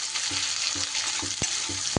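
Finely chopped medium onion frying in a pan, a steady bright sizzle broken by a few rhythmic scraping stirs, close and alone without talk.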